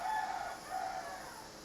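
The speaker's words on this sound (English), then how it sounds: "What message does the rooster have for you today?" A rooster crows in one drawn-out, slightly wavering call that seems to be coming closer, heard at moderate distance with no talking.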